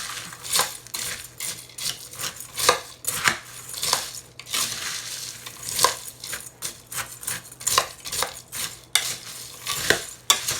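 Nut and fruit granola mixture being crushed and stirred in a bowl, a steady run of dry scraping, rattling and clinking as the spoon works through the clusters at close range, with no voices.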